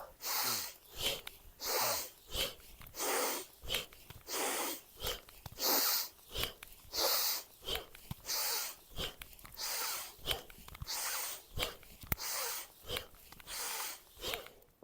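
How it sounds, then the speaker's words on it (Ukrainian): Vigorous, forceful deep breathing in a kundalini yoga exercise, with loud rhythmic breaths in and out of roughly equal length, about a dozen cycles in steady succession, close and alone without talking. "Глибоко дихаємо, дуже мощно, наскільки це можливо, вдих равен видаху."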